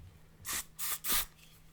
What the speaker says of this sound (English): I'm just going to spray it and kind of waft it towards you